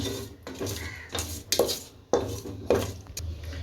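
A spoon scrapes and clanks against a pot while a gravy with curd and lemon is sautéed, several distinct metallic knocks and scraping strokes at uneven intervals over a faint sizzle, close up.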